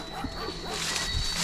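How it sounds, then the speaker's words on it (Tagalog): Wild dog in a remote rural settlement barking and yipping at close range over a busy, noisy background, short bursts spread through the moment. "Yun na ba yung wild dog, bro?"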